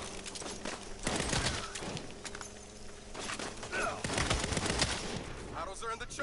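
Dense video game gunfire fills the scene, rapid bursts and machine-gun volleys near and loud, with shouting voices mixed in amid the battle chaos.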